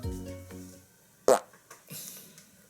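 A fart: a low, buzzing, rumbling blast lasting under a second, followed by a brief sharp pop and faint softer noises; close and fairly clear.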